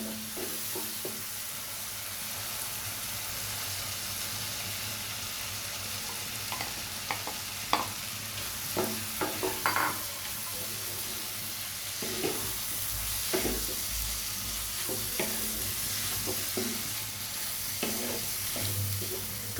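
Fried egg pieces and tomatoes are stirred in a hot frying pan: a constant sizzle runs throughout, broken by irregular scraping and clacking spatula strokes, with no voices.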